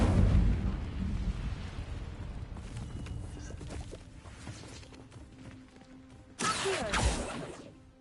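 Incendio fire spell cast in Hogwarts Legacy, a sudden bright whooshing burst of flame near the end, following a stretch of low rumbling ambience and a rough noisy start.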